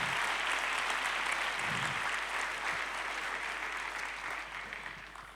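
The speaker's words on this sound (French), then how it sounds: "Merci pour vos applaudissements," A congregation at a combined evangelical church service in Lyon applauds, a continuous, even spread of many hands clapping that holds steady and eases off toward the end.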